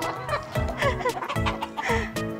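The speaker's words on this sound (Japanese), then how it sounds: "同じ日にちに孵化したひよこたちですが、" Young chicks, Easter Egger hatchlings from the same day, peep and chirp in quick high overlapping calls, close by and fairly loud, with faint chicken clucks mixed in.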